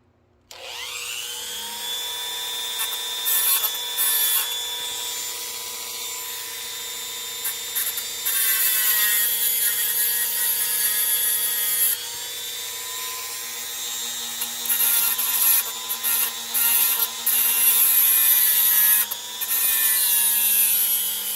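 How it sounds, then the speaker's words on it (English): A rotary motor tool fitted with a fiberglass wheel smooths down a homemade switch, a high whining spin that runs continuously with scraping bursts as the wheel grinds, close and fairly loud. "Now I'm going to take the motor tool with the fiberglass wheel on it."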